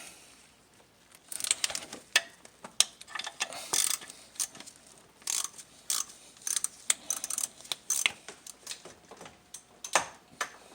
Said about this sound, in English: my little stubby ratchet